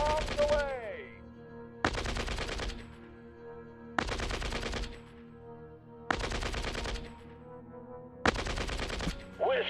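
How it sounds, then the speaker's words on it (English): Aircraft strafing gunfire in the strategy video game Shadow Empire, five loud bursts of rapid machine-gun fire, each about a second long, separated by quieter pauses with a lingering background hum. "Let's do a strafing run on these guys."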